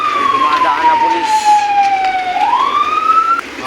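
A police siren wails as it passes, its loud sweeping tone falling in pitch and then rising again, steady and close over a busy street background.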